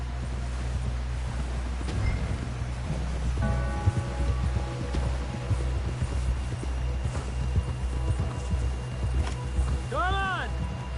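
Horse hooves clip-clop steadily at a gallop in the video game Red Dead Redemption 2, close and continuous, with excited character voices shouting over the rhythmic hoofbeats.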